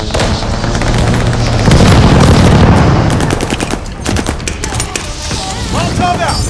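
Loud, dense barrage of explosions and gunfire from an airstrike in the Call of Duty Vanguard Domination match at Das Haus, rumbling booms and rapid crackling filling the whole stretch with a faint game voice mixed in.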